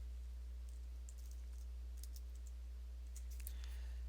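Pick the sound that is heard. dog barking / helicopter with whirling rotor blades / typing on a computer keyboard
typing on a computer keyboard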